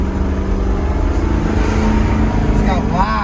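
A 1970 Oldsmobile Cutlass SX with its built factory-block engine runs steadily and loudly up close, a dense low rumble filling the whole stretch while people talk over it.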